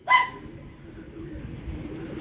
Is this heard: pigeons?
yes